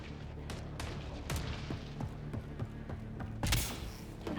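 Enemy gunfire in the shooter game Mass Effect Andromeda, a dense run of sharp shots and thuds cracking over a steady low rumble, with a louder burst near the end.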